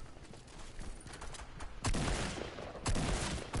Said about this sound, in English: Gotta get the shotgun